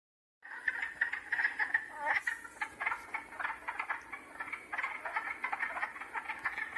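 Wood frogs and spring peepers call together in a spring chorus, dense quick quacking mixed with high rapid chirping that starts abruptly and continues steadily, fairly close and moderately loud.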